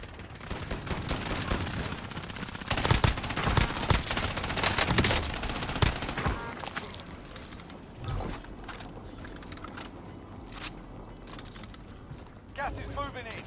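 Game gunfire in Call of Duty Rebirth, dense rattling bursts and single shots over a busy mix of game effects, with players talking over it throughout.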